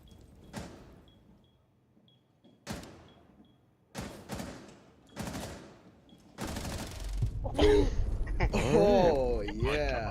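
Several separate gunshot bursts fire in Rainbow Six, spaced a couple of seconds apart, followed by a denser run of shots with game effects and a voice speaking over them.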